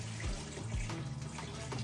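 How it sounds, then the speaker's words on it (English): Colder water runs steadily into a vessel as part of brewing a stinging nettle mead, a continuous close trickle and splash filling the whole moment with no talk. "let's get some colder water"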